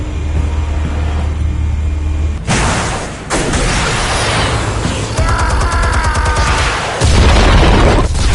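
Explosions and gunfire in a video game: several loud, heavy booms with crashing debris and rattling bursts, one blast landing after another at close range, with no one talking.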